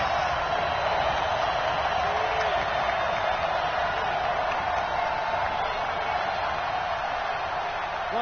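Stadium crowd noise from Madden 20 during a Browns versus 49ers game, a steady, dense roar of cheering that holds at an even level throughout, with no clear voices standing out.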